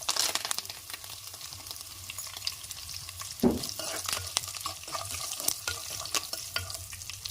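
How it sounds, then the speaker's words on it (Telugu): Curry leaves frying in hot oil produce a dense, continuous crackling sizzle, close and fairly even, broken by a single louder spattering pop midway, with no voices. "ఇప్పుడు కరివేపాకు వేసుకుందాం."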